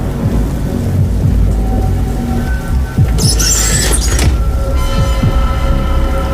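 Heavy rain roars steadily while thunder rumbles low throughout, with a sharper crackling burst partway through; no voices.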